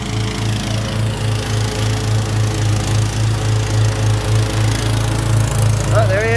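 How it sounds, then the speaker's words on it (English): Cub Cadet XT1 Enduro garden tractor cutting grass, its mower engine droning loud and steady with a pulsing throb, close by throughout. "Look at that mower just cut right through that grass."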